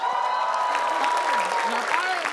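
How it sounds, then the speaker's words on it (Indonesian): Audience applause for the host at a quiz show with two competing teams, a steady wash of clapping with voices and cheering mixed in. "Kita beri tepuk tangan buat saya."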